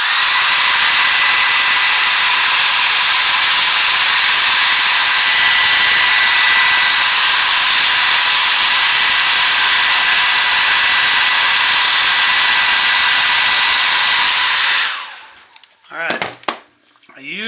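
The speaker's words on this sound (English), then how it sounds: "another jolt of electricity from the hairdryer" A hairdryer blows steadily and loudly for about fifteen seconds, drying paint on a carved caricature cowboy bottle stopper, then cuts off, leaving a few faint handling knocks.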